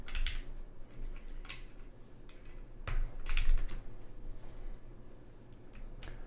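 Keys clack on a Bowl Keyboards OC-62 mechanical keyboard in short, scattered bursts of close taps and a few heavier spacebar thocks, with no speech.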